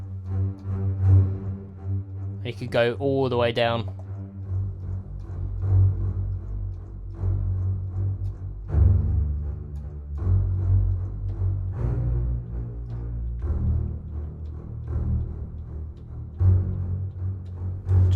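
Sampled orchestral strings play spiccato from composition software, in short bouncing detached notes over a low sustained bed, with a brief high flourish early on; someone speaks briefly near the start.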